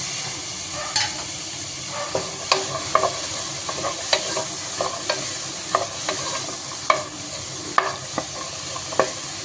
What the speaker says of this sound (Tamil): இப்போ வந்து நம்ம கேரட்டும் பீட்ஸும் சேர்த்து வதக்கிக்கலாம்